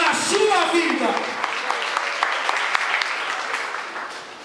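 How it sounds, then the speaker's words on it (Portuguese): A church congregation applauds in a sustained wash of clapping that peaks early and gradually tapers, with voices mixed in among the crowd. "Então dá um aplauso a esse Deus"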